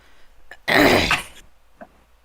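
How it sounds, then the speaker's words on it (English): A single harsh cough or throat-clearing burst, close and loud, with faint small sounds before and after. "You're always coughing."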